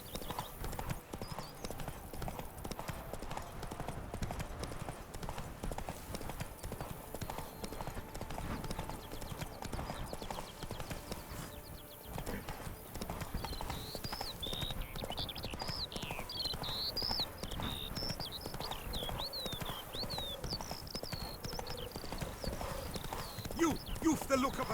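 Hooves of Roach, Geralt's horse in The Witcher 3: Wild Hunt, clip-clop steadily and close up throughout, with an occasional whinny, over game music and ambience while voices speak.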